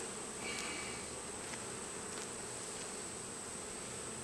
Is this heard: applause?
no